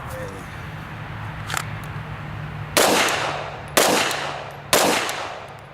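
A Glock 34 pistol fires three loud, sharp shots at an outdoor shooting range, spaced about a second apart, each with a decaying tail, after a stretch of quieter background sound.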